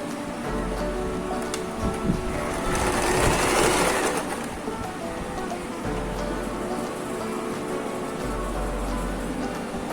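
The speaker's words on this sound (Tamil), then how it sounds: "ரோல் பண்ணதுக்கப்புறம் இப்போ தைக்கலாம்" A sewing machine stitches the rolled fabric edges of a homemade headband, a steady close whirring and rattling run that swells briefly louder midway, then settles back to an even hum.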